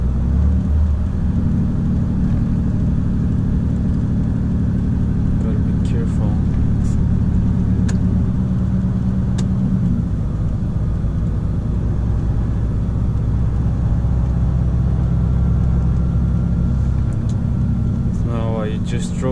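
A truck pulling a trailer on a slippery, icy road at night near Uppsala rumbles with a steady, loud low engine drone throughout, with faint ticks and a brief rising tone near the end.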